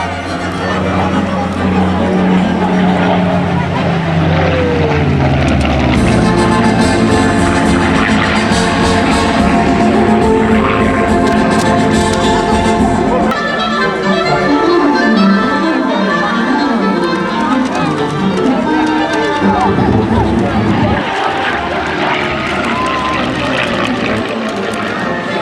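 Supermarine Spitfire flying at the Festival of Flight air show at Blenheim Palace, its propeller engine droning loud and sustained as it passes, with a narrator speaking over it.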